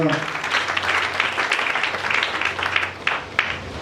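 A church congregation applauds for the Lord, a dense wash of clapping from many hands that carries steadily with raised voices mixed in and a few sharper claps near the end.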